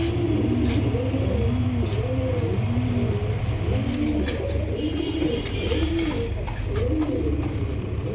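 A pair of Kashmiri racer pigeons coo in a rapid, repeated rhythm, close and clear over a constant low background rumble at a pigeon farm.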